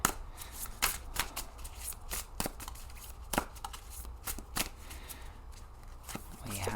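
A tarot deck being shuffled and handled, crisp riffling card snaps and slaps in an irregular series up close, with no talk over them.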